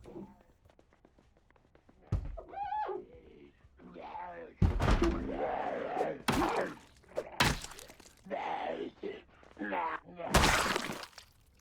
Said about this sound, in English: Which window broke?